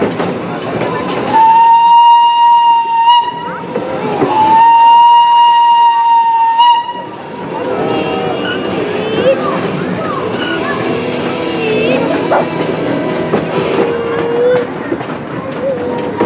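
A live steam miniature train sounds two loud, sustained whistle blasts close by, followed by chuffing, rumbling running noise while people chat nearby.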